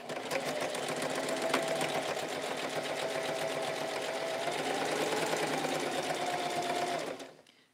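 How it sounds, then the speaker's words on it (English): Sewing machine stitching a pant leg seam, a continuous loud, close mechanical whir with a rapid rhythmic needle chatter for about seven seconds before winding down to a stop. "I'm going to stitch this real quick."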